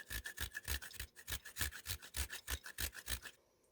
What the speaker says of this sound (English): what you do is you grind a little piece of wood on there like this